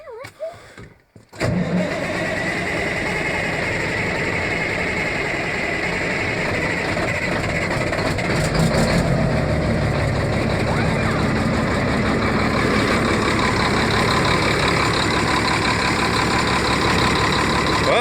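A Caterpillar 3176 diesel engine cranks and catches after hand priming of the fuel, then settles into a steady, loud idle with a clattering rumble that continues to the end with no talk over it.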